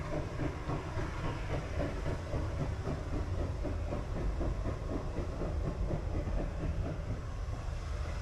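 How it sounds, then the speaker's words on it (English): A diesel maintenance train passes at a distance, with a steady low rumble and a faint repeating clickety-clack of wheels over rail joints, heard alone without speech. "I think that may be a maintenance train actually, because it's reversed down."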